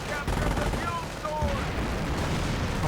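Chaotic battle noise in a World War II strategy game, with rapid gunfire and booming blasts blending into a dense, loud roar; a commentator's voice is mixed in.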